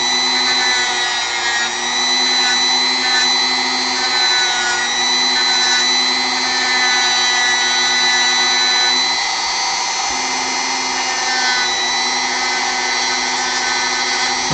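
Electric sander running continuously on a small hand-carved Final Fantasy V scholar model with books and scrolls, a steady loud whining hum with a slight dip in pitch midway as the piece is pressed against it, no talk.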